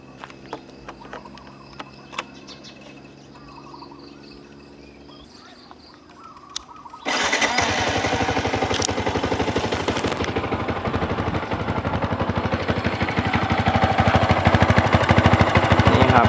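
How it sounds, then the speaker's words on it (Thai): A stock Yamaha M-Slaz 150 motorcycle engine turns over after a few faint clicks and fires up into a loud, steady running idle that holds close and strong, rising slightly toward the end, with no talking. "เดี๋ยวผมจะ สตาร์ทเครื่องให้ดูกันนะครับ"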